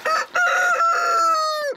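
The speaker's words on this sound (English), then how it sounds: "There's chickens," A rooster on a farm that also keeps ducks, guinea fowl and a turkey crows once, loud and close, in a single drawn-out call that falls away at the end, with no other sound around it.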